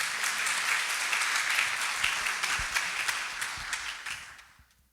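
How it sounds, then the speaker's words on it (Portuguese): Worshippers at a communion service applaud for Jesus, a broad, steady patter of many hands clapping that fills the room, then thins and fades out over the last second. "Você pode aplaudir a Jesus?"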